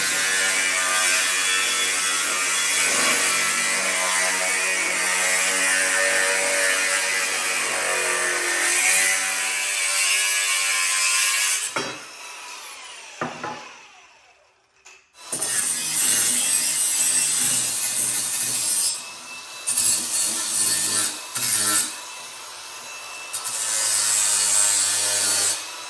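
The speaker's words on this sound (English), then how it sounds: "So I'm gonna do my rough cut and then I'll just round it off, make it a little bit more uniform." A saw makes a rough cut, with long steady rasping strokes followed by a brief pause and a few short, uneven cutting passes.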